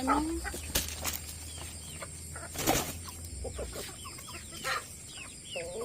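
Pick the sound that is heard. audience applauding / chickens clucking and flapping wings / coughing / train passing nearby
chickens clucking and flapping wings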